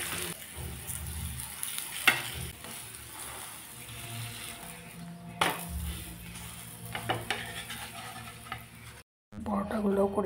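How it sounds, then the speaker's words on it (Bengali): Paratha frying in a pan, a steady close sizzle with occasional clinks and scrapes of a utensil, broken by a brief drop-out near the end. "একটা পরোটা ভেজে নিলাম, এখন দিয়ে দিলাম আরেকটা পরোটা।"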